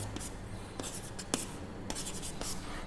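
Pen or marker writing on a board while DNA strands are sketched in a biology lecture, with soft scratchy strokes and brief taps recurring at a steady pace, fairly faint against a quiet room.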